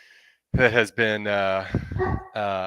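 A dog nearby barks and whines in a few loud, drawn-out bursts with short gaps between them, heard during an online conversation about moving from military service into an IT career.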